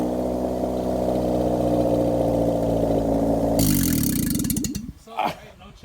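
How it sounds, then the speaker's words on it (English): A car engine fitted with new exhaust headers idles and then revs once, a steady rumbling drone that jumps into a loud rising roar before cutting off, with voices heard around it. "Rev it one time."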